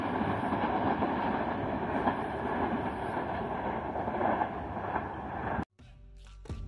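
The Allama Iqbal Express rumbles along the rails in a loud, steady clatter, then the sound cuts off sharply near the end and a quieter, different texture follows.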